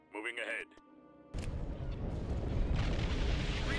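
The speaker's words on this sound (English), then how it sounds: "Damn hypervelocity cannons." Hypervelocity cannons fire in the space battle game Star Wars: Empire at War, a deep booming barrage that starts abruptly after a short burst of voice-like tones and grows into a loud, sustained rumble of blasts.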